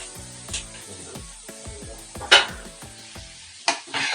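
Broccoli fries in a pan on low heat, a steady soft sizzle with regular stirring scrapes and a few sharp clinks of a utensil against the pan, close and without talk.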